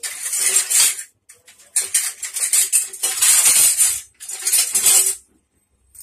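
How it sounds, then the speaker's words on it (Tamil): A metal spoon scrapes and rattles steadily through dry semolina roasting in a pan for rava kichadi, in loud continuous bursts with brief pauses. "இப்ப முதல்ல வந்து ரவைய வறுத்து வச்சுக்கணும்."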